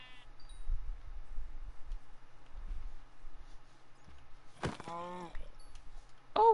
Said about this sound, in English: Oh shit, it's a Baba black sheep.